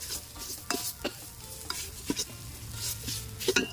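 Curry paste stir-fried in plenty of oil over low heat for a Thai green curry, a quiet sizzle broken by frequent spatula scrapes and taps against the pan in an uneven rhythm, close and faint.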